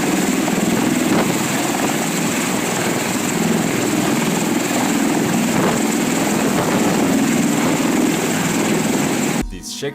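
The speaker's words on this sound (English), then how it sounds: "This V-22 Osprey is a plane and a helicopter at the same time, and this is how it looks when it's being used as a helicopter." A V-22 Osprey tiltrotor flying in helicopter mode gives off a loud, sustained rotor and engine roar that holds steady throughout, then cuts off abruptly at the very end.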